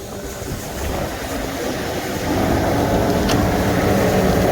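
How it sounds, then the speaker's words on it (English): A farm tractor hooked to a grain bagger revs up toward 540 rpm, its engine rumble climbing in two steps to a louder, steady drone, close and without talk. "Donovan is in the tractor. Rev it up to 540."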